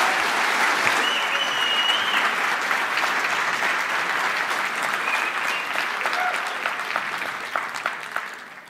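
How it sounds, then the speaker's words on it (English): A crowd at the EGX 2013 gaming event applauds a presenter for The Witcher 3 with sustained, full clapping that tapers slightly near the end, followed by a few scattered claps. "So give him a warm applause."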